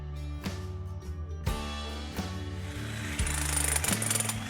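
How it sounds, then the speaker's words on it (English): A jackhammer pounds at concrete steps during a deck build, delivering loud, rapid hammering bursts with brief pauses between them and no talking. "we used the jackhammer to shave some weight off of the steps"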